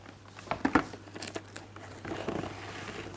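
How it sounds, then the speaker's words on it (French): Puff pastry dough being wrapped in plastic cling film, close crinkling and crackling of the film in quick bursts, with a brief tearing rustle near the end. "Je l'enveloppe pour ne pas qu'elle croûte"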